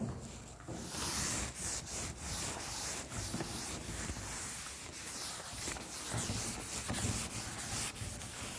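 Classroom board being rubbed clean with a duster, a steady, close scrubbing and rasping sound in continuous strokes with no talking.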